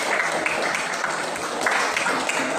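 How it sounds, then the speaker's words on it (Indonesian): Classroom audience applauding, a dense, steady patter of many hands clapping throughout at moderate level, with no pauses or voices breaking through. "Oke, tepuk tangan buat dia."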